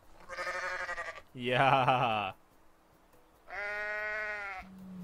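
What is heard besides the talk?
screaming goat bleating in Goat Simulator video game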